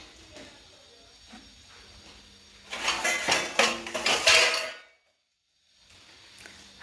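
Dishes, pots and pans clatter and scrape in a sink with a rush of running water, loud and close for a couple of seconds before stopping abruptly, then faint kitchen noise returns.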